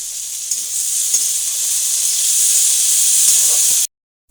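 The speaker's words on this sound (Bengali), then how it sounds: "আলু বেগুন কিছুক্ষণ ভেজে নেব লাল লাল করে।" Potatoes and eggplant frying in a pan for a chickpea-greens dish give a steady, loud, close sizzle with occasional stirring clatter, continuing about four seconds before cutting off abruptly into silence.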